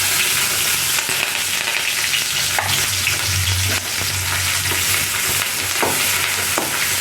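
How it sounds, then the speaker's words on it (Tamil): Sliced shallots and curry leaves sauté in hot oil after mustard seeds and urad dal have spluttered. A continuous close, loud sizzle is broken by occasional stirring scrapes over a low hum. "கடுகு முடிஞ்சோடனே வெட்டி வச்ச பல்லாடி கருவேப்பிலை போட்டு வதக்கணும்"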